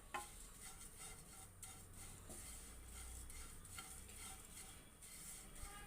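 Aval (flattened rice) roasting and stirring in a pan: a faint, steady dry scraping and rustling of the flakes, with soft occasional clinks of a spoon against the pan.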